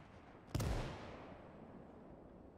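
Gunfire in the WWII strategy game Gates of Hell: Ostfront, a single loud sharp shot followed by a long rumbling echo fading into background noise.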